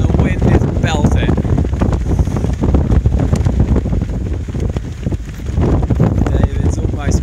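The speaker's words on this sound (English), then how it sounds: "the wind is belting." Strong wind blasts across the microphone near the summit of Ingleborough in the Yorkshire Three Peaks, a loud continuous buffeting rumble with gusty surges throughout.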